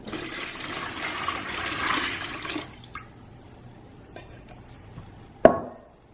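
Water splashes and gushes steadily for a couple of seconds while being added to a Cattleya orchid fertilizer mix, then tapers into quieter trickles, a few small clinks, and a sharp knock near the end.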